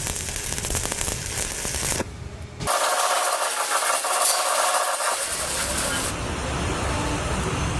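Electric arc welding on a steel plate makes a loud, steady crackling hiss that drops out briefly partway through and then resumes, close and continuous.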